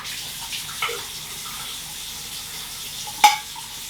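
Water runs from a tap as a pet water bowl is rinsed out, a soft continuous hiss and splash with a couple of brief clunks of the bowl and no talking.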